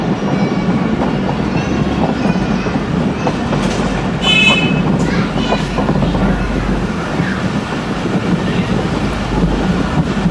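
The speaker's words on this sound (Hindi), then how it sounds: "खैबर मिल ने अपनी स्पीड को आहिस्ता आहिस्ता कम करना शुरू कर दिया है" The Khyber Mail passenger train slows while entering Khanewal station in Pakistan, heard from on board as a loud continuous rumble of wheels and carriages with rhythmic clacking and brief high squeals, no one talking.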